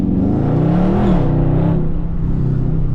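A Dodge Charger Scat Pack's V8 engine roars loud and close, its pitch climbing briefly as it revs and then settling into a deep, steady drone, with no talking over it.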